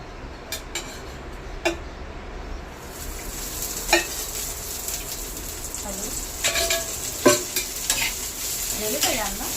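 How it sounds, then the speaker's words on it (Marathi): Onion and fresh and dried coconut roasting in a pan on a home stove, a soft steady sizzle with scattered clinks and scrapes of a spoon against the pan, under a background voice. "आता हे बघा, मी कांदा भाजते आणि वल्ल खोबरं सुकं खोबरं दोन्ही खिचून घेतलंय मी."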